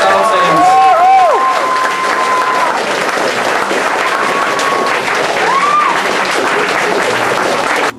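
Loud, dense audience applause and cheering fill a Guitar Day 2010 guitarists' event hall, with whistles rising above the steady clapping throughout before it cuts off abruptly.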